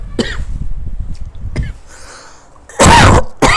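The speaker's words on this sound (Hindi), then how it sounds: "खांसी आ गई।" A teacher coughs during a Class 12 political science lesson: several loud, harsh bursts come close together near the end, after quieter throat noises earlier.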